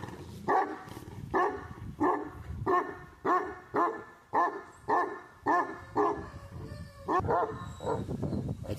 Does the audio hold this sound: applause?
no